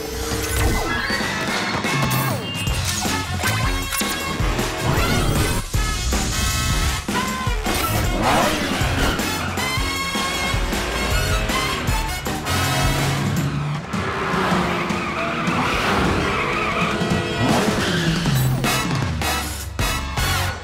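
The PJ Masks Cat-Car races off in a cartoon, its loud engine and whooshes blended with crashes, skids and bright background music throughout, no voices heard.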